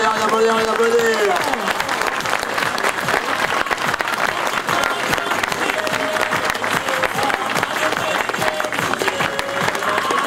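A crowd keeps up loud, continuous applause at the Plaines et Vallées 2017 SSV rally podium, with a voice and crowd murmur audible over the steady clapping.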